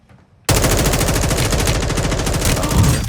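Rapid automatic gunfire in a shooter video game, a loud continuous burst of close shots that starts abruptly after a brief quiet moment and keeps rattling to the end.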